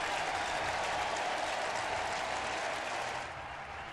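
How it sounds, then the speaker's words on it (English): Stadium crowd applauding Nationals pitcher Josiah Gray at a Phillies–Nationals baseball game, a broad, distant wash of clapping and crowd noise that holds steady for several seconds before easing off. "Nice round of applause for Josiah Gray"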